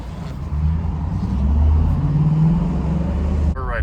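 A Coyote V8-swapped 2014 Ford Expedition with an electric steering rack driving, heard from inside as a steady low engine drone and road rumble that swells slightly, with a brief shift near the end.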